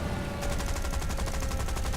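Rapid gunfire bursts from a tank battle in the War Thunder Ground Forces arcade beta, a steady loud rattling volley that runs continuously over a low rumbling engine drone, with no talking.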